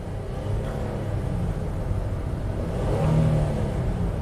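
A Honda car engine with a failing transmission at about 100k miles, revving at steady throttle without shifting, a continuous mid-pitched whir and rumble that swells slightly near the end.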